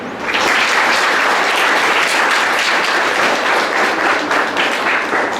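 A crowd applauds at a prize distribution function at Govt High School Gaondongri, producing loud, dense, continuous clapping from start to finish.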